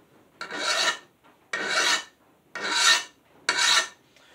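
Four even rasping strokes of a hand file across a lawn mower blade to remove a burr, each stroke about half a second with short pauses between, close and crisp.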